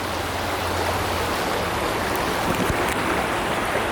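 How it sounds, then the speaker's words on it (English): A brook streams steadily beneath a low bridge at Starvation Creek, a continuous broadband rush of moving water that holds even throughout, with no voices over it. "I'm gonna say this is a brook. We'll call this a brook."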